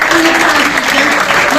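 A brief burst of steady applause fills the room at a management and human resources school event, dense and even throughout, with some voice-like sound blended in.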